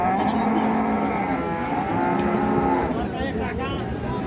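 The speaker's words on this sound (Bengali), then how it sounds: "আজকে যে গরুগুলো কিনছিলেন ভাইরা সাহেব আলী ভাই" Sahiwal bulls at a busy rural cattle market in Bangladesh, lowing in long, drawn-out moos over a steady crowd hubbub, fairly close and prominent.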